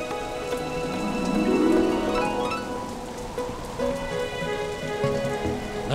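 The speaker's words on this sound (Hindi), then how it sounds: "बारिश इस मौसम में?" Rain falls steadily on surfaces during a sudden unseasonal shower, an even close hiss with scattered drop patter that holds at moderate loudness throughout, with no talk.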